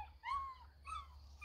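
A puppy whimpers close by in two thin, high, drawn-out whines, quiet against a low steady hum, with no talking.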